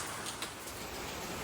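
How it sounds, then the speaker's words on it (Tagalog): Steady monsoon rain falls in Las Piñas, a continuous even hiss of drops with no voices. "Pero again, ganito lang kalakas yung ulan yan."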